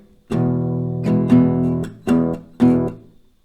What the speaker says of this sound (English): So it will sound like this, the strumming.